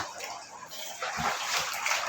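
Typhoon Carina floodwater, risen neck-deep, sloshing and splashing close by inside a flooded house, a continuous watery wash that swells louder halfway through.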